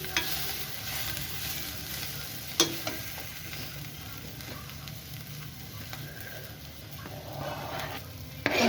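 Ginger, garlic, chili and tomato sizzle and fry in a pan for a jackfruit curry, a soft continuous crackle with occasional clinks of a stirring spoon against the pan, fairly quiet and close.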